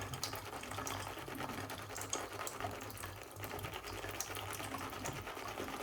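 A shaving brush scrubs Gentleman's Nod Calabria soap lather in a bowl, giving a soft, continuous wet swishing and churning at low volume, steady throughout with no talking.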